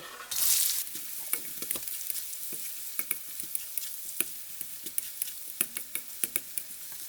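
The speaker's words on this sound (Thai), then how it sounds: "เจียวไปอย่างนี้แหละค่ะก็ค่อยๆดูไป ค่อยคนไป" Shallots frying in hot oil for chili paste, a steady close sizzle broken by intermittent spatula scrapes and taps against the pan, with a brief louder burst at the start.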